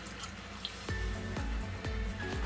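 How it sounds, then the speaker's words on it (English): Water is poured into a taco sauce of chipotle chilies and thyme, a few distinct splashing drips landing in quick rhythm over a faint background hum, close to the listener and without talk. "Add a bit of water from there too."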